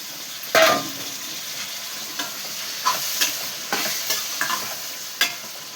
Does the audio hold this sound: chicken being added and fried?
yes